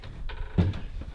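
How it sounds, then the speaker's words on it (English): A springy door on a small off-grid bathroom shed swings shut with a single dull thud, followed by a short rattle and then quiet. "The door's a bit springy."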